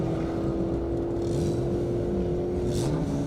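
A Kawasaki race bike on a half-mile airstrip course gives a sustained engine drone at a steady pitch that bends near the end, heard from a distance over a continuous background rumble.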